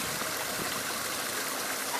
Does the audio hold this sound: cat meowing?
no